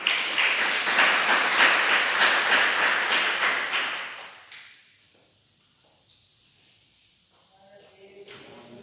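A church congregation claps their hands loudly together for about four seconds. The applause then stops abruptly and leaves a quiet room with faint shuffling.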